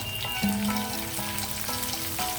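Green chillies, dried red chillies and curry leaves sizzle in hot oil with cumin seeds for jeera rice, a steady close frying crackle with small pops as each ingredient drops in, no voices.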